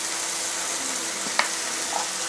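Onions and tomatoes fry with spices for butter paneer masala, a steady close sizzle with a soft tap of a utensil near the middle; no voices.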